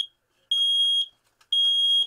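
A newly installed home smoke alarm being tested gives two loud, piercing electronic beeps, each about half a second long and separated by short silences, with faint background noise between them.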